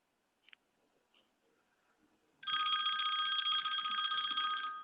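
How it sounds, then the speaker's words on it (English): A cell phone rings with a steady electronic trill that starts suddenly and carries on loud and alone, after a few faint clicks in a quiet room. "It's always fun to hear an actual telephone ring now."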